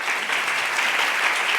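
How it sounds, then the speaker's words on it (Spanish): Steady, dense applause from a conference audience at an Andalusian property administrators' convention, a continuous even wash of many hands clapping at moderate volume with no pauses. "Un fuerte aplauso para nuestros expertos."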